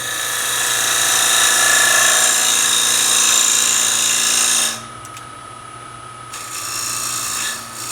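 A skew chisel used as a scraper shapes the top of a wooden box on a spinning lathe. It makes a continuous loud whirring rasp that drops sharply partway through, then rises and falls again, with no voices.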